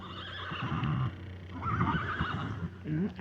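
A horse whinnies on a small farm in the woods at evening, a few rising neighs alongside low murmuring voices and movement, fairly close.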